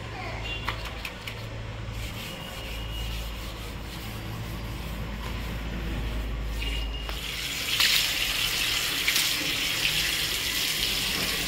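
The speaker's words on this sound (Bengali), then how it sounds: "তো আমি এখন জল দিয়ে ধুয়ে দিচ্ছি।" Tap water runs steadily into a sink while dishes are rinsed after washing with dish soap, a continuous close splashing flow with rubbing and clinks, growing a little louder toward the end.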